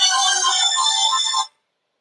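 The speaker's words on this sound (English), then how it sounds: "This is a phone that has been loaned to me. I need to turn this down." A loaned mobile phone rings loudly and close, its bright electronic ringtone melody running steadily for about a second and a half before stopping abruptly into silence.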